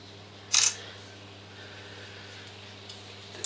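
Single camera shutter click snapping a picture of an electric motor's model number, a sharp brief snap over a faint hum in a quiet workshop.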